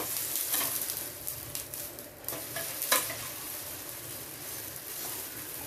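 An amboli pancake frying in oil on a high flame, a steady close sizzle with a few sharp scraping clicks from a spatula as it is turned.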